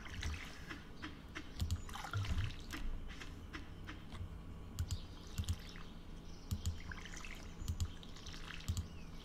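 Water dripping and trickling from a watering can over crops in Stardew Valley, soft splashy drips repeating in short bursts across the clip, close and moderately quiet with no talk.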